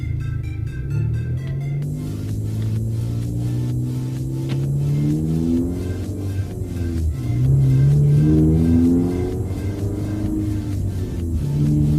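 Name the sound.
loud car engine accelerating while driving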